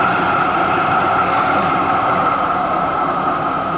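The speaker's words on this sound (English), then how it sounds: "There's one of the lovely trams" A tram passes along a street, heard as a steady, loud continuous rumble and rail roar filling the whole stretch without clear breaks.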